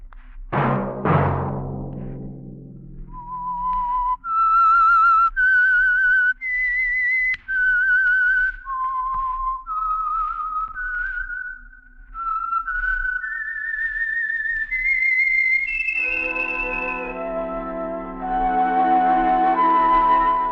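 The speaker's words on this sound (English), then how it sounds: "Let that whistle be your signal for the Signal Oil program, The Whistler" A lone whistler carries a slow, wavering melody of long sustained notes, the theme of The Whistler radio mystery program, before music enters beneath the final notes.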